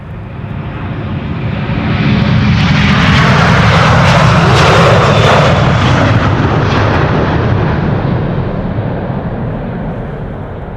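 Airliner taking off from Schiphol Airport with its landing gear retracting, a powerful engine roar that swells within the first two seconds and then holds loud and broad before slowly easing as it climbs away, with no talk.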